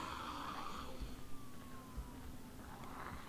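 Ambulance siren in the video game Project Zomboid, a faint, thin wailing tone sweeping slowly downward through the middle, heard at a distance beneath a steady background hum with no talk.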